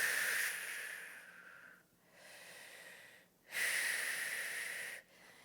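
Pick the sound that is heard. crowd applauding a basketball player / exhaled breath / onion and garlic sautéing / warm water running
exhaled breath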